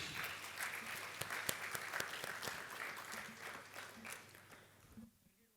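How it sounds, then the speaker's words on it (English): Steady applause from a sizable audience at a corporate tax seminar, dense and continuous for several seconds before fading out near the end. "let us put your hands together"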